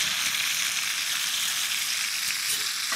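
Chicken pieces fry in hot oil, giving a dense, steady sizzle that holds close and loud throughout with no talking.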